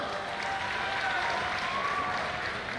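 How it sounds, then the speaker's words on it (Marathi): Students at a university youth festival prize distribution ceremony applaud in a steady, even roar of many hands clapping at once, with a faint voice underneath. "जोरदार टाळ्या वाजवायची विद्यार्थी मित्रांनो"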